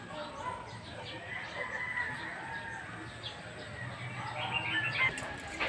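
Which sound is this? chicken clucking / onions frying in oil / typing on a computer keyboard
chicken clucking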